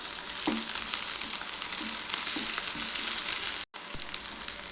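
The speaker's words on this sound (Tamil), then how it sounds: "இஞ்சி பூண்டு பேஸ்ட்டு சேர்த்துட்டு அது பச்சை வாசனை போக வதக்கலாம்" Ginger garlic paste, green chilies and mint sauté in hot oil with a steady, fairly soft sizzle and crackle, and a few light stirring scrapes of the spoon in the pan.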